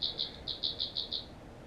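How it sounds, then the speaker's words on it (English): Seven rapid, evenly spaced, high-pitched chirps from a frog or cricket sound faint and steady over a quiet room hush, with no talking. "It sounded like a frog or a cricket."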